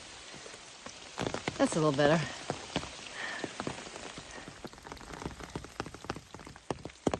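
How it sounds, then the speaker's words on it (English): Rain patters steadily on an umbrella along the Appalachian Trail in the Smokies, climbing toward Mount Collins, a close, dense spatter of drops, with someone speaking briefly early on. "it is now raining on me"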